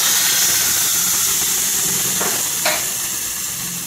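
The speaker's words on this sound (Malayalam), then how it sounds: "ഇതിപ്പം കടുക് ദേശം ആയിട്ടുണ്ട്. നമുക്കത് ഇതിലേക്ക് ഒഴിച്ചു കൊടുക്കാം." Loud, steady sizzle and hiss as hot oil tempered with mustard seeds is poured into Kerala-style green mango pachadi, crackling continuously at close range without talk.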